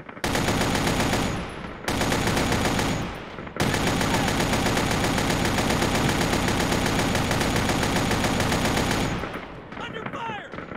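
Sustained automatic gunfire rattles loud and close in the ARMA 3 video game, long dense bursts broken by a couple of brief pauses, fading at the end.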